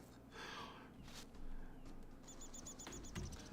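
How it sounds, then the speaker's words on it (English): Birdsong in Farmer's Dynasty 2, a run of bright, evenly spaced chirps that comes in partway through over steady ambient game noise, fairly clear and moderately loud. "You got the birds."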